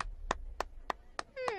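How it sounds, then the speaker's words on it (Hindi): Clapping in a farmers' gathering, five sharp, evenly spaced hand claps ringing out against a quiet background, followed by a rising voice at the end. "ए ताली बजाओ।"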